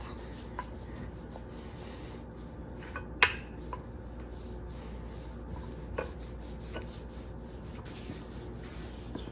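A rolling pin rubs and scrapes across peanut butter dog cookie dough on a counter, making a steady soft rasping with one sharper knock near the middle and no talk.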